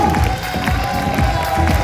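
A crowd at a Diversity Days evening event cheers and applauds over loud, pulsing music with a thumping bass beat; the clapping and shouts blend into a steady, energetic wash.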